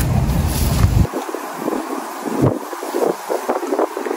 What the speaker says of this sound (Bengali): মনে হইতেছে বাতাসে সব খেত উড়াই নিয়ে যেতেছে